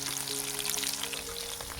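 Chicken pakoda deep fries in hot oil, a loud close bubbling sizzle with dense crackling spatters over a low steady hum.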